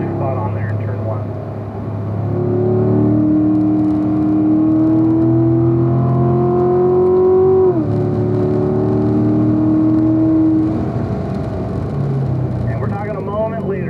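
A car on a race track accelerates out of a turn and straightens onto the following stretch, its engine note rising steadily and loud throughout, with a driving coach talking over it.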